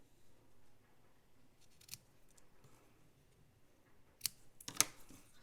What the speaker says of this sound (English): I'm going to go ahead and trim off the ends with my paper snips